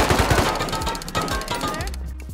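Rapid AK rifle bursts in the survival game Rust, a run of close, loud shots in quick succession that thin out toward the end, with voices talking over the shooting.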